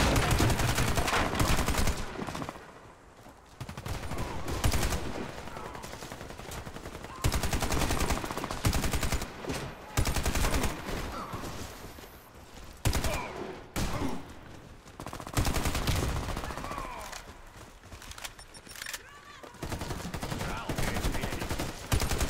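Light machine gun fire in a shooter video game: dense, sustained bursts of rapid automatic shots that keep going for about twenty seconds, loud and close, with only brief lulls.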